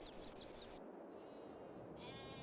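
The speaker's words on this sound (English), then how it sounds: "Got the sheep running around over here." Faint, distant sheep bleats in the video game Goldcrest Valley over a constant background hiss, short wavering calls with no voices.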